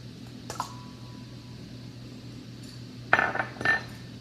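Two eggs go into a mixing bowl for gluten free, dairy free cornbread, with a few quiet clinks and taps of shell and glass against the bowl, sparse and close with silence between.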